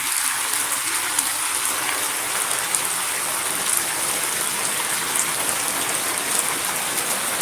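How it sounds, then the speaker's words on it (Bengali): Heavy rain pours down steadily, a dense, unbroken hiss of water with no letup. "কতটা ভয়াবহ কতটা ভারী বৃষ্টি হইতেছে"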